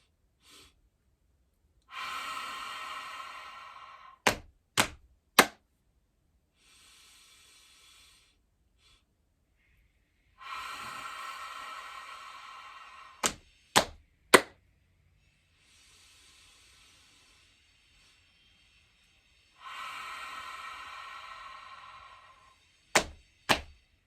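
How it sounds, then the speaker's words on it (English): Slow, deep breaths drawn in and let out, each long airy inhale followed by a few sharp clicks or puffs, repeated three times with quiet pauses. "And then breathing in."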